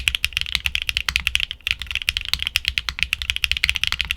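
Linear mechanical keyboard switches clack under fast continuous typing, dense crisp keystrokes in an uneven rhythm with a brief pause, close and loud with no voice.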